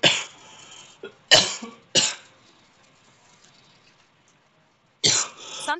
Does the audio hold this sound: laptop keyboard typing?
no